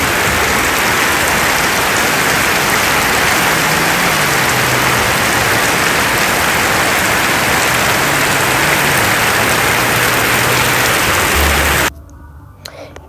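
Heavy rain pours steadily and close by, a dense unbroken hiss that holds for about twelve seconds before cutting off abruptly into near quiet.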